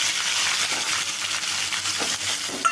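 Chopped onion and tomato sautéing in a pan: a steady, close sizzling hiss throughout, with a few light scraping stirs near the end.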